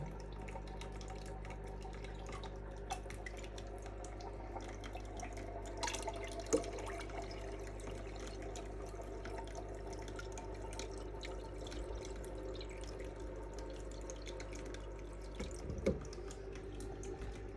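Water runs steadily into a fish fry tank during a half-tank water change, a constant low rushing flow with faint drips and a soft hum, no voices over it.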